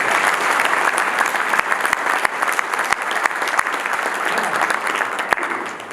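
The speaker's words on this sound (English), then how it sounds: "Please give them a round of applause for this." An audience applauds a panel of presenters in a lecture hall, sustained dense clapping with a few sharper individual claps standing out, holding steady for several seconds before easing slightly at the end.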